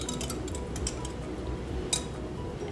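Utensil clinking against a bowl while keto doughnut batter is mixed, a series of light metallic taps and scrapes, fairly quiet and close, with no talking.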